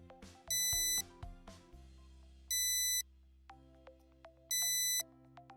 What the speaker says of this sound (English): your device will ring once again